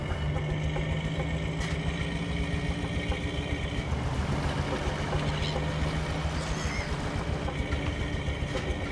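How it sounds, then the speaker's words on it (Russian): A motorboat engine drones steadily and loudly as the boat heads out to sea, with a constant low hum and rumbling water noise and no talk over it. "Заводи мотор, выходи в море, быстро!"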